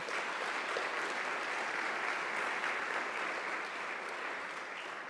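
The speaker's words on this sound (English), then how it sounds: "let's give him a big round of applause" Audience applause at a community inclusion award ceremony, steady sustained clapping from a crowd, moderately loud and even throughout, with no talk over it.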